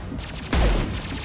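A single heavy gunshot from Mass Effect 2 combat, a loud broadband blast with a low thump that rings out briefly over a steady background rumble, with no voices.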